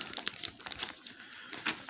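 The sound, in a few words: plastic vinyl record sleeve crinkling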